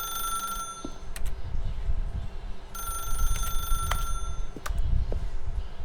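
In The Stanley Parable, a telephone bell rings in two long electric bursts with a pause between them, set against a low ambient rumble and occasional soft clicks.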